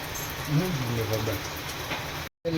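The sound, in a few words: rain falling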